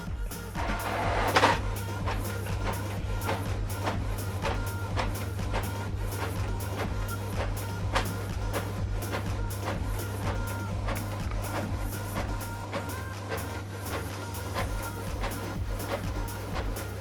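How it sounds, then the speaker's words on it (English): A Canon printer runs a print job with a steady mechanical hum and repeated clicks and shuffling of paper, with a brief louder clack near the start, continuing evenly for about seventeen seconds. "the document now is printing out"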